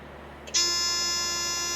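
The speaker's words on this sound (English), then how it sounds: "This is a buzzer telling you that, oh, you got to get away." A Thermo King reefer refrigeration unit's warning buzzer switches on abruptly as the unit starts and holds continuously, loud and close, with bright harmonic overtones over a low background hum.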